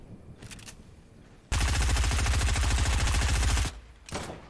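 Automatic gunfire from a video game rattles out in one loud, rapid, continuous burst of about two seconds, with quieter gaps and fainter shots before and after it.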